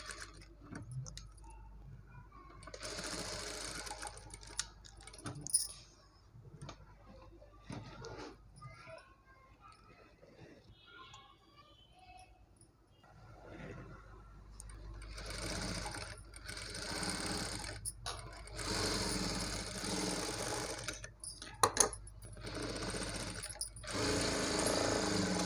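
A sewing machine sews the sides of a baby frock, with intermittent runs of rapid mechanical ticking and whirring that grow more sustained toward the end. Nearby and moderately loud, with some background noise.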